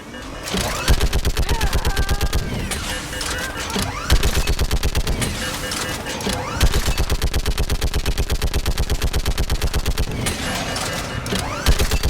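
Video game gunfire from Mass Effect 3 in a battle, with loud, dense automatic fire rattling continuously in long bursts and brief gaps.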